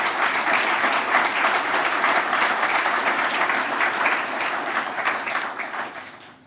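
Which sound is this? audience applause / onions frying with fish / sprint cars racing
audience applause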